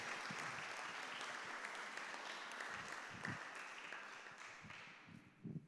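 Sustained crowd applause fills a hall at a Latvian events forum awards ceremony, steady and dense, tapering off near the end with a few isolated claps.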